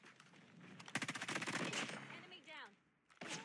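Rapid gunfire from a BP50 rifle in Call of Duty Mobile, a dense automatic burst of about two seconds with a shorter burst near the end, mixed with game audio and voice.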